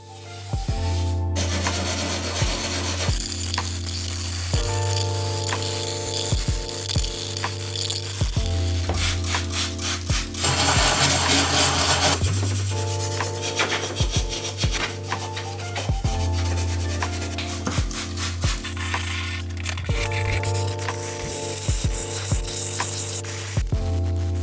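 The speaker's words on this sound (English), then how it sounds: "so far I've put in about a half hour of polishing this plate, and it's not going as quickly as I would have hoped" A BMW K100 valve cover plate is polished by hand with an abrasive product, a close steady rasping rub in repeated strokes, with a few harsher grinding bursts and a constant hum underneath.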